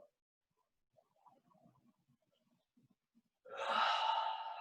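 At the close of a yoga stretch, a loud, breathy yawn or sigh follows a few seconds of faint, scattered movement in a quiet room.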